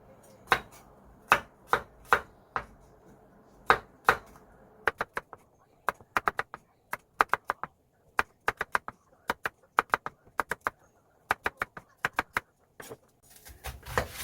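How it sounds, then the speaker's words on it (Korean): A knife slicing garlic cloves on a cutting board, heard as crisp, close knocks: a few spaced cuts at first, then quicker bursts of steady chopping with short pauses between runs. "마늘은 편으로 썰어줄게요"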